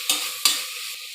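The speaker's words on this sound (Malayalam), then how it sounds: "ഒന്നും കൂടി നല്ലോണം ഇളക്കി കൊടുക്കാം." Chicken curry with spices, green chilli and tomato is stirred in a hot pan: two quick scraping strokes over a bright, close sizzle that fades slightly between them.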